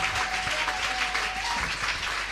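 A church congregation applauds loudly and continuously during a worship service, the dense clapping filling the room without a break.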